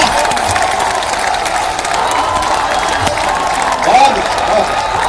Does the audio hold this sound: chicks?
no